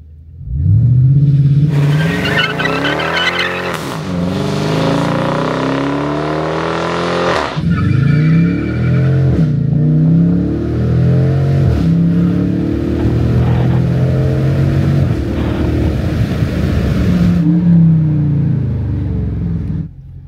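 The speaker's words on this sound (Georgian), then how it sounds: "ლანჩ კონტროლი ჩავრთოთ და ნახოთ როგორ აჩქარდება" Dodge Challenger R/T 345 V8 launching hard under launch control, its loud engine climbing through several gear shifts in a rising, falling, rising pattern, with some tire noise on worn tires, close and continuous.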